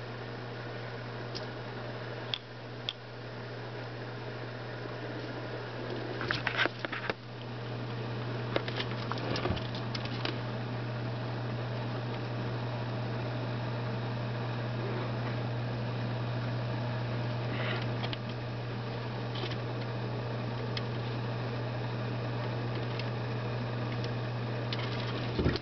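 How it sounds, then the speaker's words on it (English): A rescue turtle eats its lunch, heard as faint, irregular crunching and tapping over a steady hum and background noise, with no talk. "That was Rain the turtle eating"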